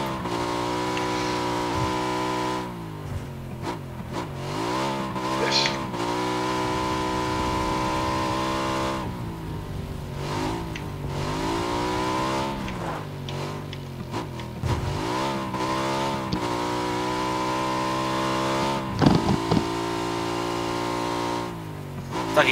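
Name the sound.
motorcycle engine revving in the video game PUBG Battlegrounds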